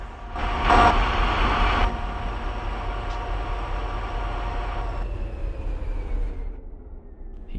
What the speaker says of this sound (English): I think this stack train on the siding ran a red block.